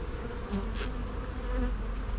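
Honey bees in an open hive buzzing as a dense, continuous hum, with a few individual bees passing close by.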